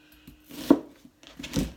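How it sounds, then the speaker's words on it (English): A knife chops through an onion on a cutting board while making homemade guacamole, with a few quiet, sharp knocks spaced apart and no one speaking. "And we're going to take our onion, just cut it in a couple pieces here."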